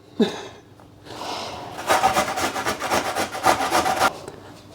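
Zucchini grated by hand on a kitchen grater, a steady run of rhythmic rasping strokes that builds after a brief pause and then stops, close and fairly loud with no voices.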